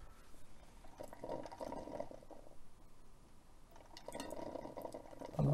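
A Makita DCM501 cordless coffee maker runs with its lid off, water gurgling, sputtering and splashing in uneven bursts at moderate volume, with a louder gush at the very end.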